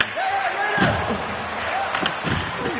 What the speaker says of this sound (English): Knocks the puck loose after a solid hit